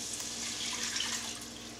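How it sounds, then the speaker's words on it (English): Two cups of chicken broth pour slowly into a pan as a steady, close, hissing liquid stream with a faint splash, with no talking. "So I'm going to take 2 cups of chicken broth, slowly pour this in"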